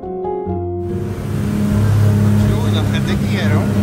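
Boat engine starting off, a few brief low tones at first, then a broad engine roar that swells and settles into a steady, loud drone as the boat gets under way, with a voice speaking over the start.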